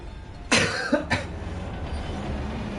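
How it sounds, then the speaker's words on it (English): Two or three sharp coughs from a persistent month-long cough, close by, spaced apart, then a steady background hum. "I've had a persistent cough for like last month, so if I cough a lot, sorry about that."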